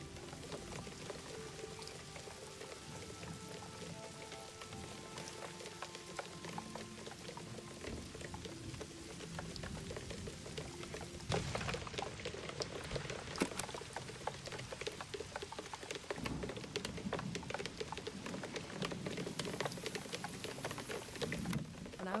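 Rain pours steadily in SEASON: A Letter to the Future, a dense hissing downpour with scattered drips and patter that grows heavier partway through, with no one speaking.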